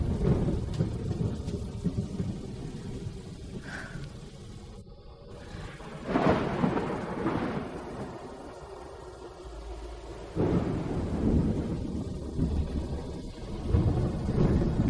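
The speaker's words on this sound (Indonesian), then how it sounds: "Nyonya, hujannya deras sekali" Heavy rain pours steadily throughout while rolling thunder rumbles in several loud swells, nearby and deep, with no talking over it.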